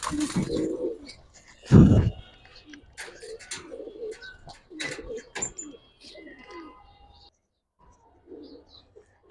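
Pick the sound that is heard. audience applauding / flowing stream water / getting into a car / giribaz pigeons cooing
giribaz pigeons cooing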